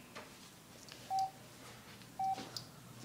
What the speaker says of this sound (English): our British phones are so rude. Beep, beep.